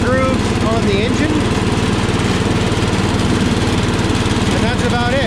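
A Power King garden tractor with a hydraulic lift mows steadily, its engine throbbing loud and constant close by while someone talks over it.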